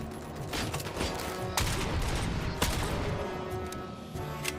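Gunfire in the video game Robocop: Rogue City comes as loud, dense bursts of rapid shots with a few heavier booming blasts, the volley running almost nonstop throughout.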